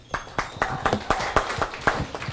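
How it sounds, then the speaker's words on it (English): Steady, evenly spaced hand claps repeat about nine times in a quick rhythm during a medical exam-prep lecture, close and moderately loud. "please give a big clap, doctor"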